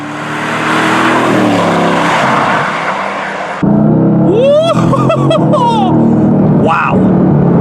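A Mercedes-AMG GT S sports car pulls hard under acceleration, a loud sustained engine roar rising steadily in pitch, then an abrupt cut to a steady drone as a voice exclaims and talks over it.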